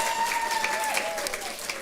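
A church congregation claps together during a Sunday service, a steady wash of applause lasting the whole moment at moderate loudness with no talking over it.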